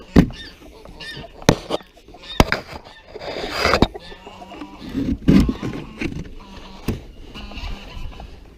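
Chickens and surplus cockerels in a backyard poultry flock, with loud honking calls and clucking at irregular intervals, some calls near and some farther off.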